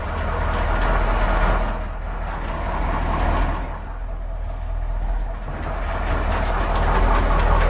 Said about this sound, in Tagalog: kung kailan naman ng aming generator ay umandar